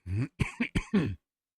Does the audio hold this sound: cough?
yes